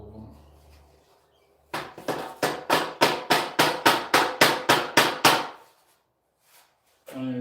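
Around a dozen loud, evenly spaced hammer blows ring out in a steady run while something is being trimmed, with quiet stretches before and after.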